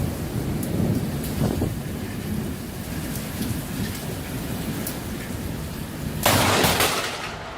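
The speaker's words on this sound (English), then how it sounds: "a tourist decided to capture some lightning during a storm" Steady rain pours through a thunderstorm in Queensland, with thunder rumbling early and a sharp, loud crack of thunder bursting in near the end.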